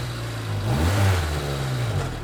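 A turbocharged Honda Del Sol engine revs up close and loud, rising to a peak about a second in and then holding a steady elevated drone, with no talking.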